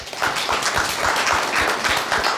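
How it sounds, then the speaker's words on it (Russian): A conference audience breaks into steady, dense applause at the opening of an international academic conference on media and power, many hands clapping together with no voices over it. "поздравить с открытием конференции бурными аплодисментами"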